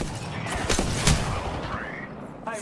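Gunfire in Apex Legends during a firefight, a cluster of loud shots early and mid-way over dense game noise, with a brief electronic whine near the end.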